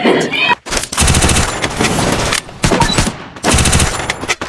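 Rapid bursts of video game gunfire crackle loudly in several dense volleys, separated by brief gaps, with a voice talking over the shooting.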